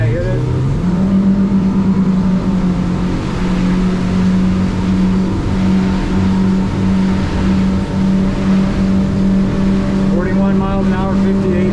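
A 2021 Duckworth Offshore 28/30 boat with twin Yamaha F200 outboards roars loudly and close. Engine pitch climbs at the start as the throttle opens, then holds a steady high drone over water noise.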